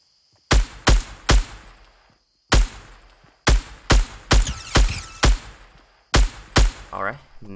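Bursts of gunfire in Fortnite ring out in close, loud clusters of two to three sharp shots, separated by brief pauses, with a rapid volley near the end.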